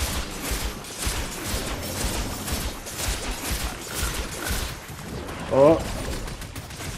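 Gunfire in the Fortnite Chapter 5 Season 2 battle royale, aimed at a rock, comes as a steady patter of shots under game noise, with a brief speaking voice near the end.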